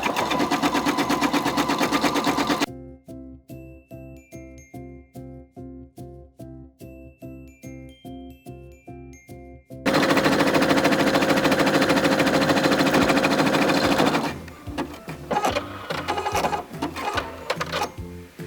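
A sewing machine zigzag-stitches a half-inch turned-up hem on a skirt made from a sweater, running in close, loud, rapid rhythmic bursts with short pauses, then giving way to louder mechanical clatter.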